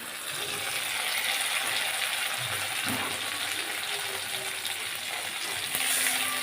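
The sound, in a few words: garlic and green chilies frying in oil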